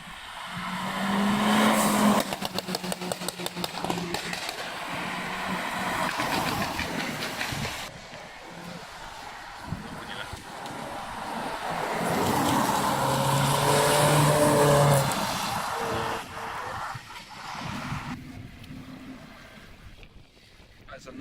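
McLaren 650S supercar engine at a wet car meet in Cornwall, a loud sustained roar with rising and falling revs as it passes, voices talking over parts of it.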